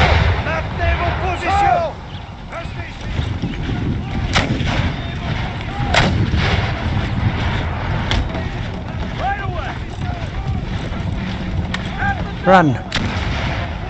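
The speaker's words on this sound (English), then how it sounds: "So they are turning the cannons." Cannons boom repeatedly during an Empire: Total War battle at Quebec, scattered heavy shots near and far over a rumbling battlefield, with a voice briefly speaking.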